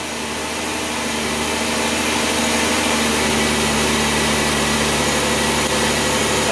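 A Ford Taurus engine running lean at idle, giving a steady, continuous mechanical hum with a whiny upper layer that holds constant and fairly loud with no talking.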